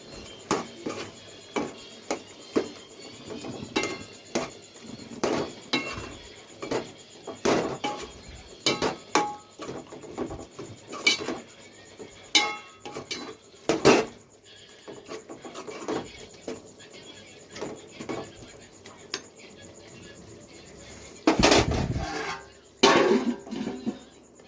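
Chicken curry seasoned with Everest chicken masala being stirred in a pot: a spoon scrapes and knocks against the metal in irregular close bursts, with quieter gaps between and no talk.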